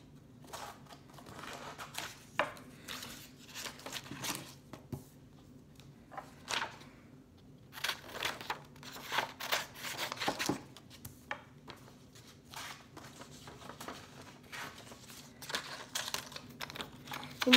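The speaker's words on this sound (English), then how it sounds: "So now I'm gonna cut the steps out." Scissors cutting out paper step cards for a plant life-cycle matching game, a steady run of close, crisp snips and paper rustles with short pauses, no talking.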